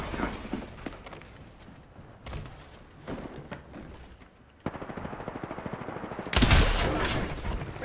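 Rapid bursts of gunfire in the video game Apex Legends, repeated volleys and rattling automatic fire at varying distances, growing louder and closer near the end.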